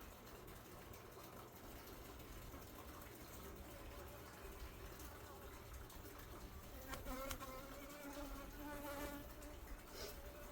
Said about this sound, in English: Oh wow, look at all the bees on this already.